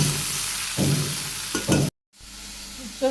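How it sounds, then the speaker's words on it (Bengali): Fish frying with raw onion and green chilies in a mustard sauce in a pan, a close sizzle broken by a few stirring scrapes and a brief cut to silence. "মাছ দিয়ে দিই, এখানে মাছ ভাজি আর একটু কাঁচা পেঁয়াজ, কাঁচামরিচ আর একটু রান্না করুন"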